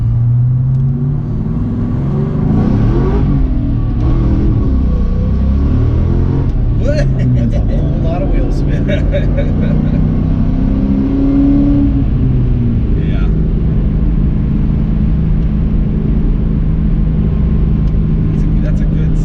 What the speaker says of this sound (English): 4-valve V8 hitting red line.